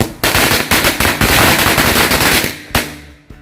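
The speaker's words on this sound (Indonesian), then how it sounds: "selanjutnya ini kita nyalakan berbagai jenis mercon korek yang udah kita susun" Matchstick firecrackers (mercon korek) set off together outdoors, a loud rapid crackling barrage of close bangs with a few separate sharp pops as it dies down.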